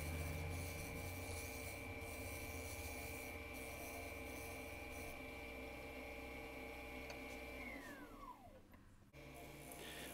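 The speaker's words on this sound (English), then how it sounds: "I'm just taking light cuts, and what I'm doing is refining the shape, making sure that there's no ridges" Lathe tool taking light finishing cuts on a spinning bubinga bowl, a steady close scraping hiss over a constant motor hum, and the motor whine winds down near the end.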